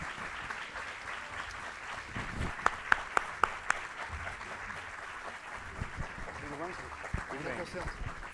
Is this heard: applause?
yes